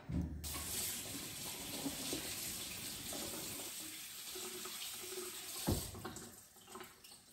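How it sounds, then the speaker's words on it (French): Running tap water gushes steadily into a sink as vinegar-pickled food is rinsed, a continuous close splashing stream with a brief louder splash near the end. "Je vais aussi les rincer un peu pour enlever ce côté acide du vinaigre."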